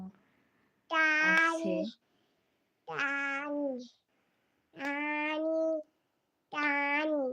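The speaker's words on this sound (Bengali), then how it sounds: "বিড়াল মেউ মেউ" Four drawn-out, tonal meow calls, each about a second long, come in a slow, evenly spaced series. They are close and fairly loud, with silence between them.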